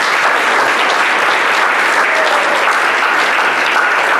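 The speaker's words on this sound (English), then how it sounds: "I'll give them a round of applause." Sustained applause from an evening community gathering audience fills the room, steady dense clapping at full volume from start to finish with no talk over it.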